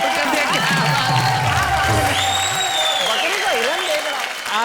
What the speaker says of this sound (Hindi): एक बार जोरदार तालियां भाई, कमाल कर दिया